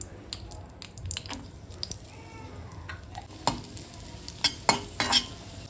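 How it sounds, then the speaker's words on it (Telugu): Cashews and raisins fry in ghee in a pan, with a soft sizzle beneath irregular scraping and clinking from a spoon as they are stirred, the stirring knocks growing sharper toward the end. "ఇప్పుడు ఇందులోనే ఒక 2 టేబుల్ స్పూన్ జీడిపప్పు అలాగే 1 టేబుల్ స్పూన్ కిస్మిస్ వేసి గోల్డ్ కలర్"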